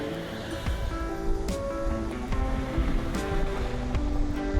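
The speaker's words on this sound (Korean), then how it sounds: "힘차게 흐르는 강물이 제 발걸음을 재촉하는 것 같아요" The Imcheon river flowing strongly along a mountain trail, a broad steady rush of water heard up close, with some wind noise on the microphone and faint background tones.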